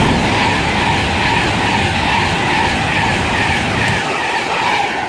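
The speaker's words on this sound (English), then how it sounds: "preparing to pass through now is going to be a Virgin Pendolino service to Liverpool Lime Street from London Euston" A Virgin Pendolino express train to Liverpool Lime Street rushes loudly through a West Coast Main Line station at Winsford, a continuous roaring rumble that fades slightly at the end.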